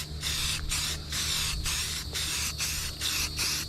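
Sandable primer is sprayed from an aerosol can onto a 30-year-old bobber chopper in short hissing bursts, about seven of them in quick rhythm, close and clear with no talking.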